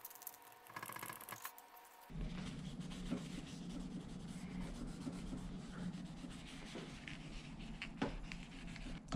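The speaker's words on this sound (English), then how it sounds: "just rubbing that fret from one end to the other" A bass guitar fret is rubbed with polish from one end to the other, giving a close, continuous scratchy rubbing that keeps a steady back-and-forth texture after a brief quieter start.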